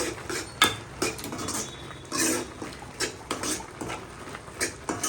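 Ridge gourd and fish curry being stirred in a pan, a run of irregular metallic scrapes and clinks of the spoon against the pan, close-up with no talk.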